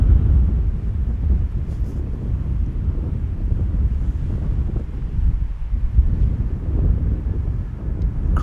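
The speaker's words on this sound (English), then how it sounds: "10 knot wind." Wind at about 10 knots buffets a microphone outdoors at Amsterdam Schiphol Airport, a loud, continuous low rumble with gusty swells and nothing else clearly heard.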